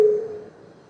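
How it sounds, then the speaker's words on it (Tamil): A mobile phone sounds one short tonal beep that starts sharply and fades over about a second, faint and heard alone. "உங்கள் ஃபோன் இருக்கு நினைக்கிறேன், அதுதான் சவுண்ட் வருது."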